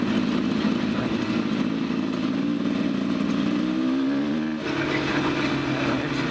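A 2024 Beta 300 RR Race Edition two-stroke dirt bike engine runs at low revs in a steady, loud, lugging drone, shifting pitch slightly near the end, with no talking.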